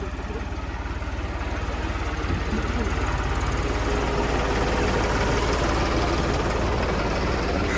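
A generator engine drones steadily at a low, constant pitch. Voices talk faintly over the hum.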